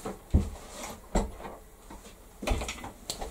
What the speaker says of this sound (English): Just bear with me a minute while I shut the door.